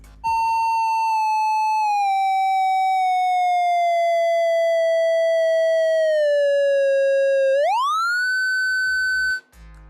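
An iPhone VoiceOver audio graph sonifies battery level as a pure electronic tone with overtones. The pitch sinks slowly for about seven seconds, then sweeps sharply upward and holds before cutting off, loud and alone between faint clicks at each end.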